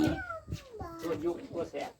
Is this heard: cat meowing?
yes